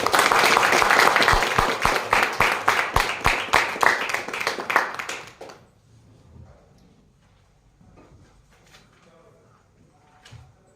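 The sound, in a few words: audience applause opening the forum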